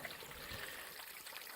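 Steady rushing and trickling water, a broadband wash of noise with no pauses, like a small waterfall heard from a short distance, on the Trotternish Ridge, Isle of Skye.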